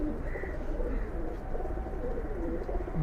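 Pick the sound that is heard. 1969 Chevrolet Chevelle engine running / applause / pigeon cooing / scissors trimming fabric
pigeon cooing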